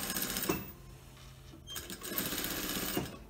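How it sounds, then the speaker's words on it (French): A sewing machine topstitches a fabric face mask, whirring in two close, steady runs with a brief pause between them. "je fais la surpiqûre à 3 mm du bord"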